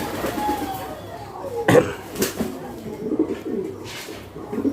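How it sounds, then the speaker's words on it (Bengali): Pigeons coo at a pigeon farm in Bangladesh that keeps high-quality fancy breeds, with a few birds let loose; soft low coos recur throughout under a person speaking and a brief cough-like burst. "এখানে অল্প কিছু কবুতর ছেড়ে দেওয়া আছে।"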